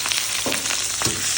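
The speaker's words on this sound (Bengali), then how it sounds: "পেঁয়াজ ক্যাপসিকামটা দিয়ে দিচ্ছি।" Onions and capsicum sizzle loudly as they hit hot oil in a pan after chilli fish fritters are lifted out, a steady broadband hiss with two brief bursts of stirring or dropping.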